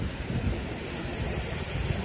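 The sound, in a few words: strong wind at the sea during a storm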